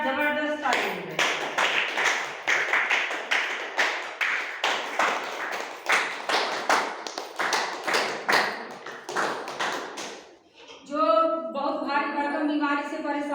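An audience at an indoor meeting claps loudly and rhythmically in unison for about ten seconds, a dense crowd close by, before a voice begins speaking over the fading end.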